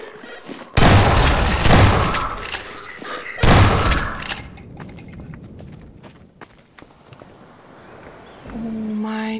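Heavy gunfire bursts in Half-Life 2, with three loud broadband blasts in the first few seconds followed by quieter scattered impacts and shuffling, and a tonal game sound rising at the end.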